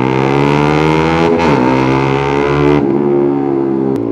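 Yamaha Sniper 155 four-valve scooter with a remapped ECU and aftermarket pipe, its engine droning loud and close, revving up and dipping in pitch a couple of times, with no talk over it.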